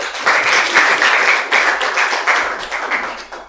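A classroom audience claps together after a lesson point on logical, systematic problem-solving, a dense, steady burst of many hands lasting a few seconds before tapering off.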